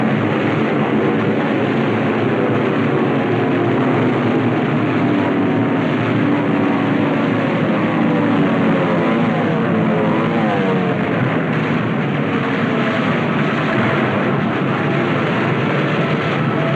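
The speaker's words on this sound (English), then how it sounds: "The planes appear to float gently off our bow." WWII carrier propeller aircraft in flight, a loud, continuous engine drone with a wavering, throbbing tone that holds steady throughout.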